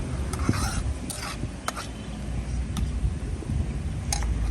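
Onion, garlic and green chilli frying in a pan outdoors in a garden, a steady low sizzle with occasional clinks and scrapes of a utensil against the pan.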